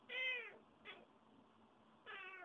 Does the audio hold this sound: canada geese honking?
no